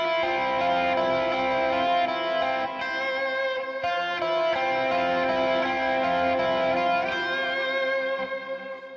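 Sustained electric guitar lead melody from the bridge of a song, heavily processed with effects and distortion, smooth legato notes ringing continuously at steady loudness for the whole stretch, fading slightly at the very end, with no one talking.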